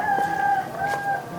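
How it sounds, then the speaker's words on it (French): A rooster crows outdoors at dawn, one long clear cock-a-doodle-doo at moderate distance over a quiet background, with no talking. "Au premier chant de coq,"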